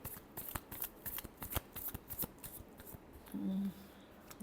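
Tarot cards are shuffled close up in quick, crisp flicks and slaps, a soft rapid patter of card edges, with a brief faint voice near the end.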